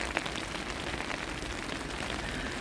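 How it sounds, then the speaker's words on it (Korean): Heavy rain falling steadily, a dense continuous hiss of drops with no pauses, close and loud. "이렇게 비가 많이 내리고 있는 수요일 아침입니다."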